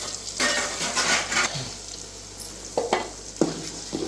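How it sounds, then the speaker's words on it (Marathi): A spoon stirs onion-tomato curry paste in a hot pan for a fish curry, producing close scraping swishes over a soft sizzle, followed by several sharp metallic clinks against the pan. "व्यवस्थित मिक्स करून ठेवूया."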